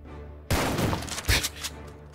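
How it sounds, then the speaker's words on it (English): Gunfire in the Tower Defense Simulator video game: a dense burst of rapid shots erupts, followed a moment later by a second loud volley that fades out. No speech. "The gunshots. Every time, they startle me."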